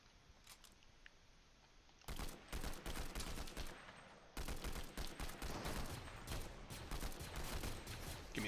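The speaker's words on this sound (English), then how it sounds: "Yeah, I kind of figure with the gunshots all over the place." Dense, repeated gunfire from Fortnite gameplay, a quieter stretch of scattered shots giving way to loud, rapid bursts of weapons fire that continue without a break.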